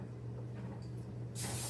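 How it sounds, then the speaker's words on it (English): Cooking spray hisses from a can onto hands while preparing gluten-free vegan pizza dough, a single steady close burst near the end over a low background hum. "Spray your hands."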